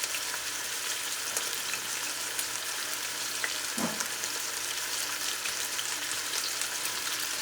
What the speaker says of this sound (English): I'm going to start with searing each side.